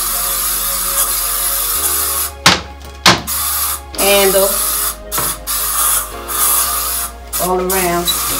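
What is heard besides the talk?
spraying disinfectant spray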